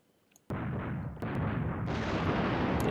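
Artillery fire in the Command Ops 2 war game opens with a sudden loud blast after a near-silent start. A dense, rumbling barrage follows, with further sharp impacts layered on as it grows more intense.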